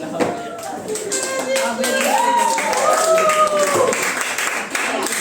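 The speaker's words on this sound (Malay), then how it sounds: "Okey, tepuk tangan pada diri sendiri" A Form 3 class of students claps for themselves in a classroom lesson, a brisk round of hand claps mixed with overlapping voices and chatter that continue throughout.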